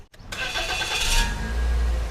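A Toyota Vios 1.5E VVT-i starts with a short crank, catches and settles into a smooth, steady idle, close by with no talking.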